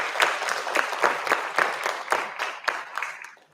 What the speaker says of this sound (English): So let's please applaud our recipients this evening.